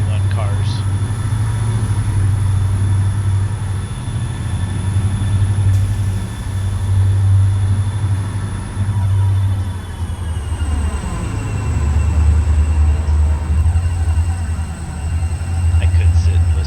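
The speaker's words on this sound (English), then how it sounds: "I could sit and listen to these engines all day. Gotta love the turbo." Turbocharged diesel locomotive engines in the Railroader train simulator game, a deep continuous rumbling drone with a steady high turbo whine above it, loud and unbroken throughout.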